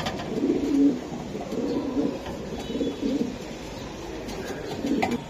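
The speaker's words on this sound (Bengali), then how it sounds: "এই যে দেখেন কবুতরটা আমি দেখাই ভাই" Euro blood racing pigeons, including a male, coo in low, repeated throaty rolls close by, with several overlapping calls in a quiet loft and no speech.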